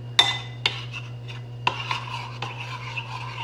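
Maja blanca stirred in a cooking pot, a series of sharp irregular clinks and scrapes of a utensil against the pot over a steady low hum, with quieter rubbing between strikes.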